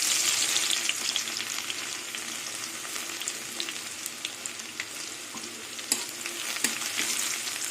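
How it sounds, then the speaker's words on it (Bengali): Crushed garlic with black cumin sizzles steadily in hot oil, a dense continuous frying hiss with occasional sharper crackles and stirring scrapes, close and fairly loud, no voices. "এবার থেতো করা রসুন দিয়ে দেবো"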